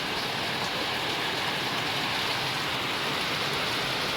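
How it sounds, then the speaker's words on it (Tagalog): Rain falls steadily in a dense, even hiss that continues throughout, with no voices. "parang mukhang maghapon tong ulan na to ah"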